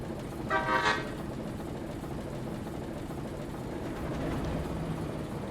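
A GE 44-ton diesel-electric switcher in the Railroader video game sounds a single short, faint horn toot over a steady low engine rumble.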